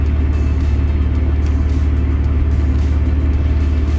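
A Maserati Ghibli SQ4 with a JB4 tune kit idles close by, a loud, steady low rumble with an even pulse and no change in pitch.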